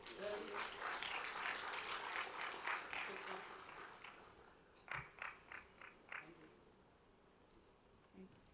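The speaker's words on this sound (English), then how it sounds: "Can we again have a round of applause?" At an IIM Visakhapatnam entrepreneurship summit, an audience welcomes a guest speaker to the stage with applause. A dense, quiet patter of clapping fades after a few seconds, leaving several scattered single claps that trail off into near silence.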